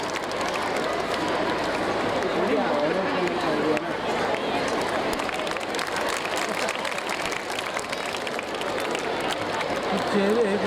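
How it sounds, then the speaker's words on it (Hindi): An audience at the opening ceremony of an Urdu fair welcomes guests with sustained clapping, a dense steady patter of many hands filling the hall, while an amplified announcer speaks over it. "जोरदार तालियों से इस्तकबाल करें हमारे तमाम मेहमानान का"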